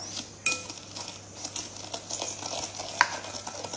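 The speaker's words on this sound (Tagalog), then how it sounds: "So, i-mix natin ito." Sweet potato cake batter being mixed with sugar in a bowl, a utensil scraping and clinking against the dish in soft irregular strokes, with a couple of sharper clinks standing out.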